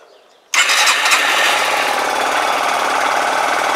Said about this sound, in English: So just start the engine 1 second